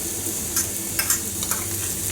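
Masala paste sautés over a medium flame in a pan, giving a bright continuous sizzle with a few sharp spatula taps and scrapes, for pearl spot fish cooked in banana leaves.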